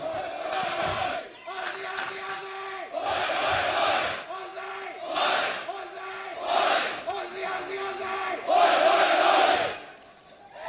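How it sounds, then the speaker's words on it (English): A large crowd at a Counter-Strike esports match in Melbourne roars and chants in repeated surging waves, loud and echoing as in an arena, with brief dips between the swells. "Love to hear a bit of that from the crowd"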